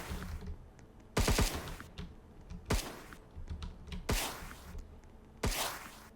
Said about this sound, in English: you can hear the wind pass as he's shooting at this guy, which is a great effect